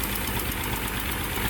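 A 1927 Pierce-Arrow 80 Series two-door coupe engine runs lean at a steady idle, a close, even mechanical churn with a dense low rumble and no clear backfire.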